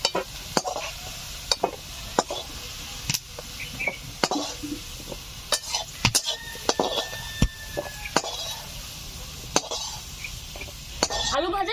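Fried potatoes are lifted out of a pan of hot oil, with a soft sizzle running under scattered sharp clicks and scrapes of a utensil against the pan.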